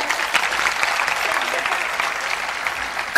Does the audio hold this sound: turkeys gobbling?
no